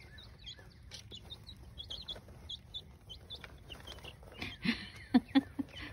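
Soft peeping and chirping of young chickens close by, growing into a few louder, sharper calls near the end.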